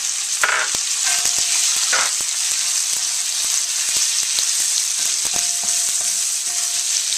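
Pork and shrimp frying on the highest heat in a pan for spicy instant ramen, a continuous loud hiss with scattered clicks and taps of stirring, no talking.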